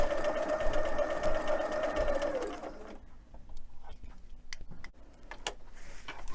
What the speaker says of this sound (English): with free motion stitching, you want to use you want to be fast on the pedal and slow in your movements.